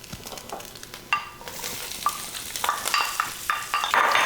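Onions hit hot oil in a pan, spitting and crackling with sharp pops and clinks as they are moved around, the sizzle growing denser and louder over a few seconds with no talking.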